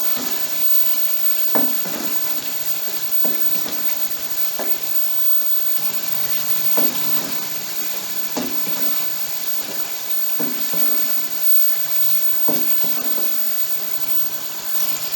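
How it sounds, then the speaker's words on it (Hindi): Boneless achari chicken with tomato puree sizzles steadily in hot oil in a handi, a continuous frying hiss broken by periodic scraping and stirring strokes every second or two. "अब यहीं पर मैं इसकी भुनाई करूँगा अच्छी तरह से, ताकि अच्छी तरह इसका पानी खुश्क हो जाए और ऑयल निकल आए।"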